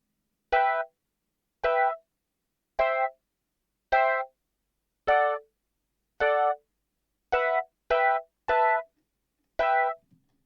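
A programmed keyboard patch modeled on a classic Rhodes preset plays ten evenly spaced bell-like chord stabs, each short and bright with a quick decay, separated by silence and slightly quickening near the end.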